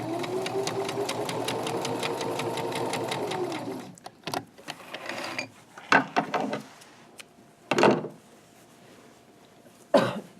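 A sewing machine stitches the waist hem of pajama pants in a fast, steady whirring run for about four seconds, then stops, followed by a few short knocks and handling sounds nearby.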